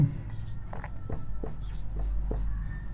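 Pen scratching on paper during a class 10 maths lesson on linear equations: several short, quiet strokes in quick succession against a low room hum.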